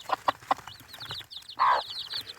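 A Trabzon gugullu hen clucking near her chicks in a coop, a few short rhythmic clucks followed by a louder call, with faint high chick peeps scattered throughout.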